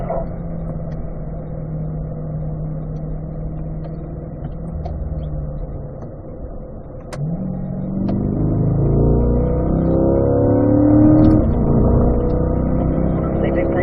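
A car on a race track circuit accelerates steadily, its engine note climbing and then dropping at an upshift before rising again, loud and continuous throughout with no other sounds over it.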